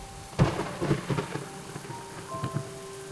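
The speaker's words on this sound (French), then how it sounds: "Par contre, pourquoi il pleut, ça arrive?" Rain and thunder in a horse video game: steady rainfall hisses while a low thunder crack and several softer rumbles roll through, with faint tonal game sounds in the background.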